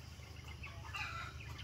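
Soft chicken clucking at a distance on a farm, low and steady, with faint higher bird calls drifting over a quiet outdoor background.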